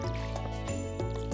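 Watering crops with a watering can in the farming game Stardew Valley: a few short, soft splashy bursts over steady background game music.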